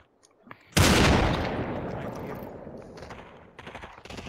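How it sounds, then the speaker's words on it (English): Gunfire in the Population One VR game, cemetery map: a sudden loud burst of shots that rings out and slowly decays, with faint sporadic shots returning near the end. "Oh, now they're shooting at me."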